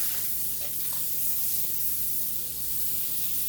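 Irish butter sizzling and hissing steadily in an overheated skillet pulled off the heat, a continuous close, even crackle with a faint low hum beneath.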